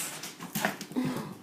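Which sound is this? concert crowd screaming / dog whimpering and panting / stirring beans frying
dog whimpering and panting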